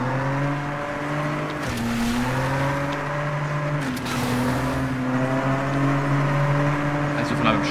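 A race car in the racing game Asphalt Legends: Unite accelerates hard, its engine droning and rising through the gears, with a voice talking over it.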